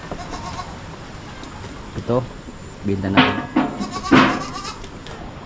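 Farm goats bleat in a few wavering calls, close and fairly loud, the strongest near the end, with someone speaking and steady insect-like buzzing in the background.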